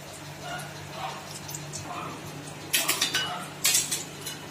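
Fried fish vadai being moved into another bowl: a metal utensil scrapes and clinks against cookware in two short bright clusters over quiet kitchen background.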